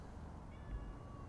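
A house cat meows close by, one short call over a quiet indoor background with a low hum.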